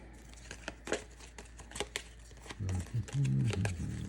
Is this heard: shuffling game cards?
yes